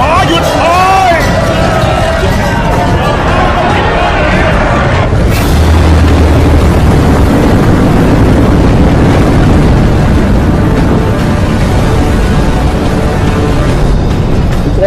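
Cannon fire in a Thai-dubbed action film, heavy booming explosions rumbling loud and continuous amid battle noise, with dubbed voices speaking early on before a large blast takes over.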